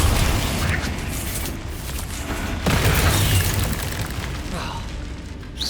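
Spell explosions from the Confringo curse in Hogwarts Legacy, heavy booming blasts layered over a dense, continuous battle mix, with a stronger burst around the middle and a man calling out spell names.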